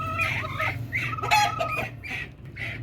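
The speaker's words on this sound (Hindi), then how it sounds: "और अब मुर्गी देखिए कैसे बोल रही है" An Aseel hen clucks repeatedly up close while set on eggs, a series of short throaty calls over a low steady background hum.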